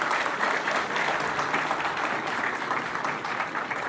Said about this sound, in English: Please give a big clap.